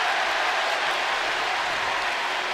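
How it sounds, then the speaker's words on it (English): Basketball arena crowd at an Arkansas exhibition game cheering and applauding, a steady dense wash of clapping and roaring spread across the hall with no let-up. "This crowd's getting into it."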